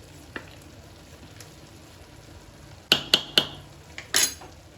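Metal lid lifted off a pot of mutton biryani, several sharp clanks and clinks from the lid and utensils over a steady low sizzle, with a final bright scrape near the end.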